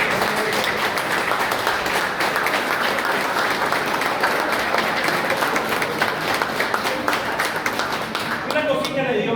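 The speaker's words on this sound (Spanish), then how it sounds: "Patricia y yo, un aplauso." An audience at a political speaking event gives teachers a standing ovation, dense sustained applause with individual claps, loud and continuous for the whole stretch.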